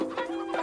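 Hens cluck in short, busy bursts close by, a steady fowl chatter with a couple of sharper squawks over 0.7 seconds.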